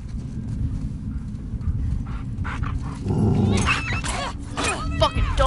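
A dog attacks in The Last of Us Part II, snarling and yelping over a steady low game rumble, with someone shouting loudly across the later half.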